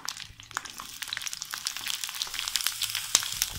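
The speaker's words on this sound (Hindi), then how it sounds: "अब हम इसे फ्राई करेंगे।" Garlic, onion, capsicum and carrot frying in a pan for Gobi Manchurian, a steady close sizzle with scattered crackles and small pops throughout, no talking.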